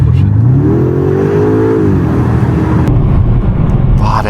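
A BMW M5 Touring engine pulls hard under full acceleration, a loud, close roar whose pitch climbs steadily before settling into a sustained, gritty drone, with no voices over it.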